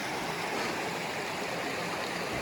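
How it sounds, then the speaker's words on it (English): A creek on a trail toward the Mohaka River flows in a steady, even rush of water, constant and moderately close with no voices. "To the creek."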